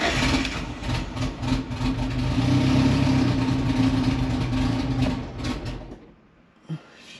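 A Haltech-equipped drag car engine idles with a steady low rumble after cranking, loud and continuous for about six seconds before cutting off, followed by a brief knock.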